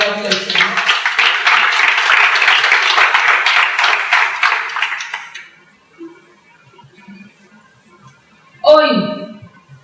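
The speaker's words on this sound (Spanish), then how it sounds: "Que regalen un aplauso al Señor" Church congregation applauding during a sermon, dense sustained clapping for about five seconds that fades out, followed by quiet and then a voice speaking.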